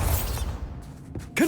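A Bombarda spell being cast in Hogwarts Legacy, heard as a short mechanical whoosh with a creaking edge that ends in a sudden louder pop, all within about a second and a half.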